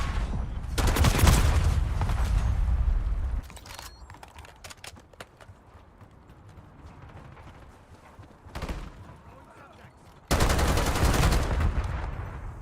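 Video game gunfire: two loud, dense bursts of rapid automatic shots, separated by a quieter stretch of scattered distant pops and clicks, plus one short burst midway.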